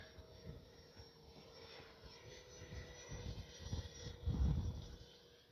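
A Freewing A-4 Skyhawk 80mm electric ducted-fan RC jet flies at about three-quarter throttle into the wind with its gear up. It gives a faint, steady whoosh that swells toward the end as it comes nearer.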